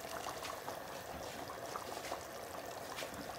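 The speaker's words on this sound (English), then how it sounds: "so I'm going to add some more water." Water poured into a pot of Bengali fish head curry with tomatoes, onions and lentils, a soft continuous splashing trickle heard close and fairly quiet, steady throughout without talk.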